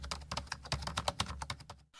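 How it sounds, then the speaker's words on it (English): Rapid, uneven keystrokes clatter on a computer keyboard, loud and close, as someone types letters in a continuous burst that stops abruptly near the end. "or typing letters for a businessman"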